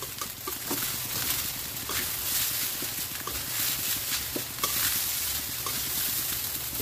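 Fried rice (sinangag) stirred in a hot pan, with a steady close sizzle of frying broken by repeated scraping and tossing sounds from the utensil, no voices.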